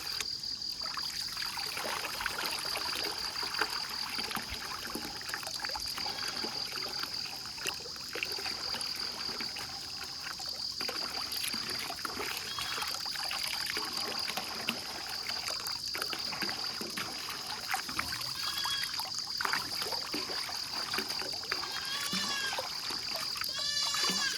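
Meat is rinsed and washed clean in water, with continuous sloshing, trickling and splashing as it is moved around, steady and close throughout.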